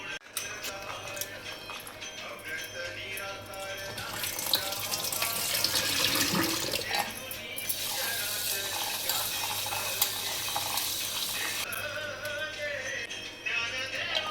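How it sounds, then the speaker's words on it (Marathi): Soybeans are washed under running water, with splashing and swirling that swell in the middle and stay steady, close by in a kitchen sink. "ते आता 2-3 पाण्याने स्वच्छ धुवायचे आणि गरम पाण्यात टाकायचे"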